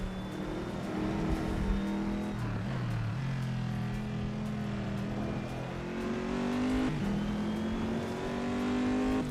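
An Opel Corsa race car in a racing video game holds a steady, droning engine note that dips and climbs through gear changes, continuous and moderately loud.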